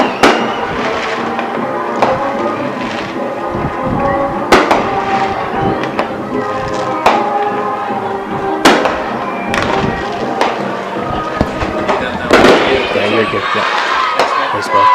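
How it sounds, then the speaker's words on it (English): Fireworks go off at a homecoming football game, with sharp booms and crackles every second or two through the whole stretch, mixed with crowd noise and people talking. "Shoot the Moon Fireworks. We'll give you a show."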